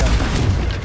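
The Confringo explosive spell goes off in Hogwarts Legacy as a single loud, close, booming blast that fills the brief moment with heavy low rumble.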